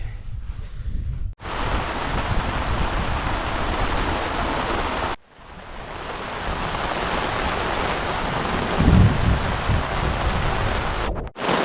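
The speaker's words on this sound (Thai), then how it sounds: "ฝนมาเลย" Heavy rain pours down at a lakeside solo campsite, a dense continuous hiss broken by two sudden cuts, with a low thump near the end; no voices are heard.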